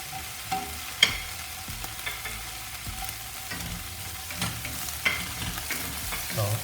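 Bacon frying in butter in a pan, a soft steady sizzle with occasional light scrapes and clinks of a utensil, fairly quiet and close, no voices.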